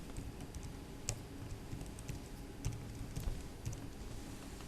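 A password typed on a computer keyboard: faint, close key taps land in an uneven run over a low, steady room hum.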